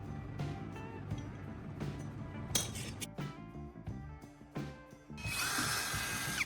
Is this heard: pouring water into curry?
no